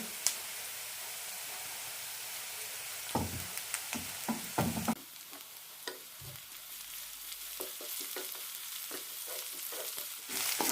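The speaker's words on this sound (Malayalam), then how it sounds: "സവാള ചോക്കാൻ തുടങ്ങിയിട്ടുണ്ട് ഇതിലേക്ക് ചതച്ചു വെച്ച ഇഞ്ചി വെളുത്തുള്ളി ഇടാം" Sliced onion frying in a pan as crushed ginger and garlic are tossed in, a loud continuous sizzle broken by clattering stirs and a drop in hiss partway through, close up with no voices.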